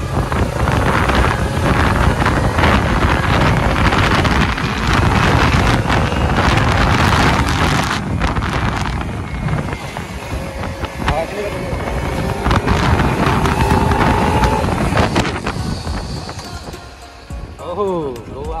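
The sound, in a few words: Kawasaki Ninja 300 motorcycle being ridden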